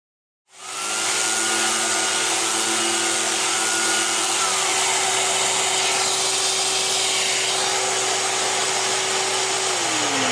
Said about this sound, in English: now we'll cut out the waist over at the bandsaw